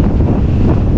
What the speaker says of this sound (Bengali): খুবই খারাপ অবস্থা, প্রচুর বাতাস,